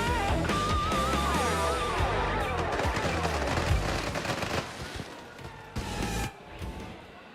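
Dense, continuous crackling and popping of fireworks in Planet Coaster 2 over a tropical park at night, loud and busy for several seconds before thinning into scattered bursts, with a faint whistling tone early on.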